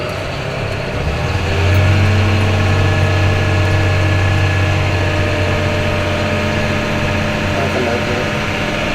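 A tractor engine drones steadily while driving across a field, a low continuous hum with a slight swell in power early on, heard from inside the cab at moderate loudness.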